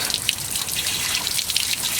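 Water carrying rust chips drains from the open engine block drains of a 1979 Chevy G20 Custom Van, a close, steady splashing trickle with small drip accents throughout.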